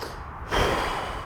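A steady inhale through the nose during Ashtanga yoga practice outdoors by the Golden Gate Bridge, a breathy hiss that rises abruptly halfway through and sustains, close and unaccompanied by speech.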